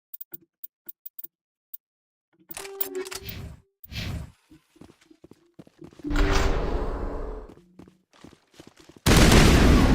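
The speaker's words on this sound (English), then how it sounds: "This is a fully auto gun." Raptor fully automatic gun in Mass Effect: sparse sharp clicks, then short bursts of rapid gunfire, a longer sustained volley, and a loud final stream of shots cutting off abruptly.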